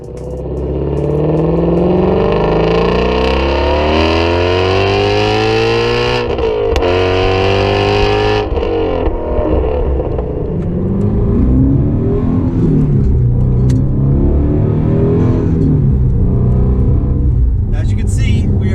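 Ford Shelby GT350R engine revving hard while driving, loud sweeping rises and falls in pitch across the whole stretch, with gear changes and a brief dip before climbing again.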